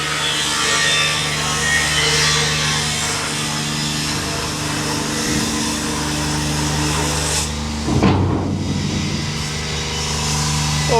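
A grinder cuts aluminium lengths to size in a workshop, producing a steady, loud, harsh grinding whine with a droning tone that runs throughout, then a brief surge near the end.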